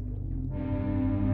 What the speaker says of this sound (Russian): Гудок даже есть.